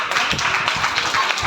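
A crowd applauds at a school celebration of Dr B R Ambedkar's birthday. The clapping is a dense, steady patter of many hands with no pauses.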